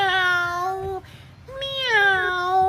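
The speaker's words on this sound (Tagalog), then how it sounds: "nag-iingay na naman si Meow," A cat meows loudly and clearly twice, with drawn-out wavering calls separated by a short pause.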